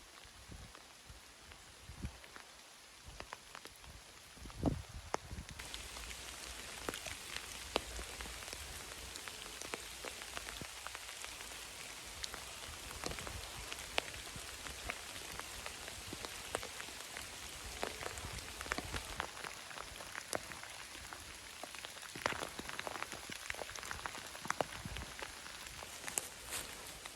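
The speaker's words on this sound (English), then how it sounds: "the rain is not due to stop for 46 minutes" Steady rain falls at Lesingey Round, an Iron Age ringfort in Cornwall, during a storm. It sounds faint and distant, a soft continuous patter with scattered louder drops and taps, and no one speaks.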